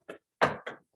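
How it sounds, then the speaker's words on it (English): Three sharp knocks on a door during a school board meeting, an uneven pattern of one rap, a pause, then two quick raps, close and alone with no talk. "Knock on the door."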